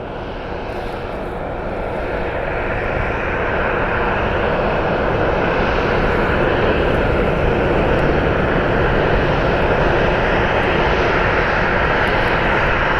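A Southwest Airlines jet at Columbus Glenn Airport roars with a broad engine noise that swells louder over the first few seconds, then holds a sustained, close roar with no voices.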